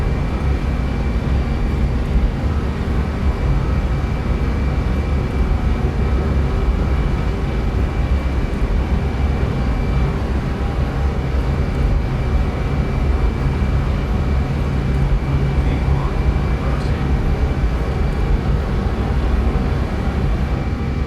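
Lockheed L-1011 TriStar jet engines roar at takeoff thrust on a British Airways transatlantic flight from London Heathrow, a loud, constant broadband rumble with a faint high whine running throughout, heard from inside the aircraft with no talking.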